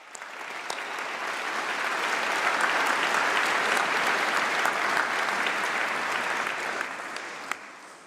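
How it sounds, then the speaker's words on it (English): A large graduation ceremony audience applauds the graduands' supporters, a sustained wash of clapping from many hands that swells, holds steady for several seconds and tapers off, with no talking over it. "why don't we give a huge round of applause to them to thank all of your supporters"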